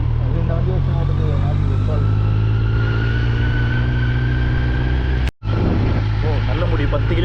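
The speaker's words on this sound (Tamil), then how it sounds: "பின்னாடி பஸ் வருது" A bus approaches from behind on a rough, badly maintained road near Valparai, its engine drone steady under the hum of a Kawasaki Z900 motorcycle, with a brief dropout in the middle.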